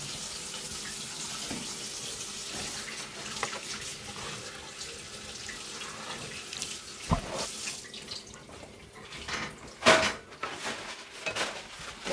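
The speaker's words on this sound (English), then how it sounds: "wash my hands." A kitchen tap runs steadily while someone washes their hands at the sink, with splashing and a few louder knocks and clatters near the end.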